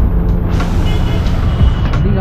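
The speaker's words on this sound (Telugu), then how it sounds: "after a long time bus వచ్చింది" Pickup bus arriving at a roadside stop during monsoon travel near Lonavala, a low rumbling engine with a brief hiss like an air brake, close and fairly loud, while people talk over it.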